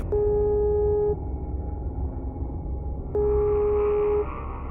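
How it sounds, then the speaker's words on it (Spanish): A home telephone calling a mobile phone, heard as a ringback tone on the line: two long, steady electronic tone bursts about a second each, separated by a pause, over a low background hum. "con el teléfono de su casa marcó el número de su celular. Este sonó durante mucho tiempo."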